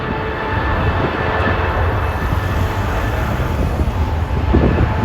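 Jet airliner on the runway at Heathrow Airport, heard from the perimeter as a steady, loud engine roar that fills the whole span with broadband rumble and a slight swell near the end; no talk.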